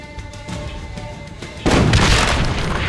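A loud, close explosion destroys a cart in Assassin's Creed Brotherhood, a sudden deep boom that breaks out of a busy game soundscape and rumbles on steadily to the end.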